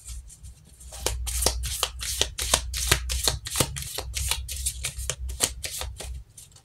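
Cards shuffled by hand for a card reading: crisp, rapid riffling bursts in quick succession, close up with no voice over them.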